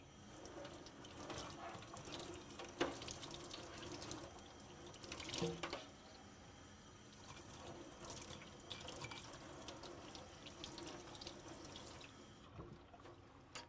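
Running tap water pours steadily over a part from an IDC Snap System PPE unit being rinsed in a sink, a continuous close splashing stream with occasional clinks and no speech.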